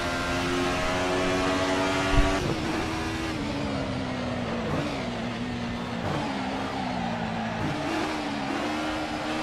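Alfa Romeo 155 V6 TI racing at Mugello in Assetto Corsa, its V6 engine droning and revving steadily through gear changes, loud and close throughout with a brief sharp knock early on.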